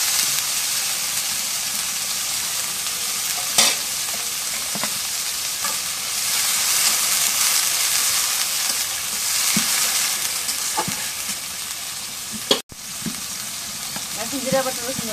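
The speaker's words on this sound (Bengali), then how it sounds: "এখন কাঁচামরিচ কেটে দিয়ে দিই।" Green chillies fry in a hot pan with a loud, steady sizzle and hiss, close up throughout, with a few stirring knocks and one sharp clatter near the end.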